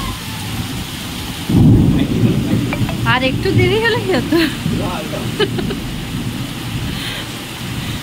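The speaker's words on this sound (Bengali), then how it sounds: "বাড়িতে ঢুকেছি আর এইরকম ঝড় বৃষ্টি শুরু হয়েছে।" Heavy rain pours steadily outside a home in the evening, with a thunder rumble near the start. A person talks over the constant downpour.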